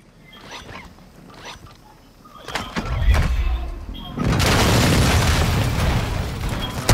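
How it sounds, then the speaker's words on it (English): Precision airstrike explosions in the video game Warzone: deep booms land around the middle, then a loud sustained roaring rumble of blasts fills the rest, with a player talking over the start. "Friendly precision airstrike inbound."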